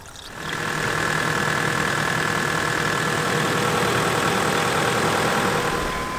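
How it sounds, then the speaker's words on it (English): A Nissan Patrol engine idles steadily after starting up, a constant low rumble with a faint whine, no voices. "once you've got this engine running"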